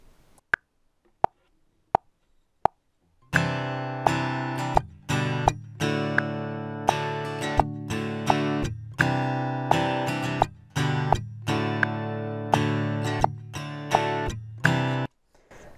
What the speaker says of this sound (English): And then I recorded the acoustic guitar along to the click track.